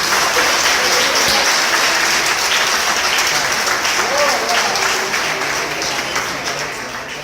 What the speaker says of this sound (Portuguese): e as palmas é para Ele.